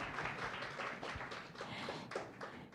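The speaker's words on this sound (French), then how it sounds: "Je peux vous applaudir." A modest audience at a Montreal health and rehabilitation evening claps softly, a few distinct hand claps sounding close together at a low, fairly even level.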